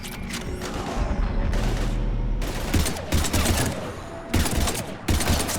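Heavy gunfire in a Mass Effect 3 battle against husks, with dense repeated bursts and booming shots crackling loudly and continuously, several sharper volleys standing out near the end.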